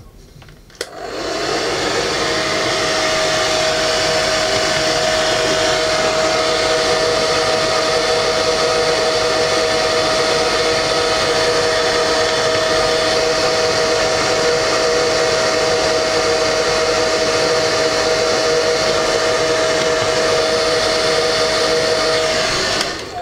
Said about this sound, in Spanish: ahora con un simple secador de pelo, podéis hacer la prueba vosotros, le aplicamos calor